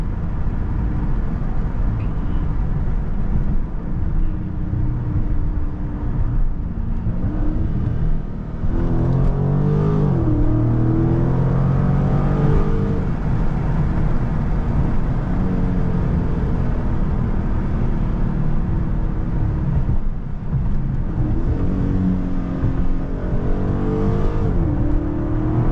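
A Dodge Scat Pack with a crashed body and no traction drives steadily, its engine droning loud and close throughout, then rising in pitch as it accelerates around the middle before easing back.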